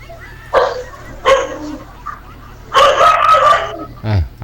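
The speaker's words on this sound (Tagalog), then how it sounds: "Aso ang tumahol." A dog barks in three separate bursts, the last one long and drawn out, followed by a short yelping cry, all standing clearly above a low steady hum.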